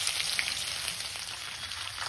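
Cumin and garlic frying in hot oil in a karahi for an okra curry, a dense, even close-up sizzle with crackling spatters throughout and no voices.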